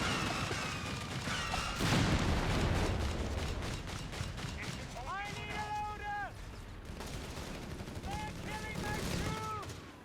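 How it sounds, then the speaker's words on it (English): Rapid bursts of Flak 30 gunfire in the video game Company of Heroes 3, sharp repeated shots mixed with battle noise and explosions, with people talking over much of the action. "we're about to see a Flak 30 fight"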